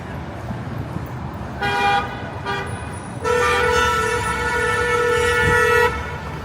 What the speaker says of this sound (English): People just honking at that guy trying to turn.